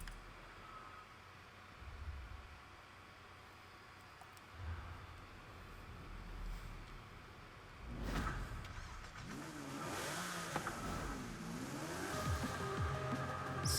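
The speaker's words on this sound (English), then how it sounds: "you might have been able to tell it was a lovely 6-litre V12" A Jaguar XJR-15 with a 6-litre V12 from Forza Horizon 5 idles quietly, then revs and accelerates, its engine note rising and falling in repeated sweeps toward the end.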